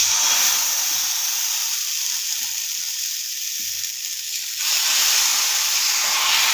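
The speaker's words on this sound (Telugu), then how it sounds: "చూడండి ఎంత తొందరగా దోశ కాలుతుందో" Dosa batter sizzling on a hot pan, a close, loud, continuous hiss of frying steam with a slight dip midway and faint low knocks beneath.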